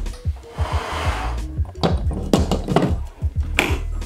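An electric stand mixer whirs steadily while briefly mixing flour and other dry ingredients for bao bun dough, a loud close motor drone broken by knocks and taps of the bowl and attachment, without speech.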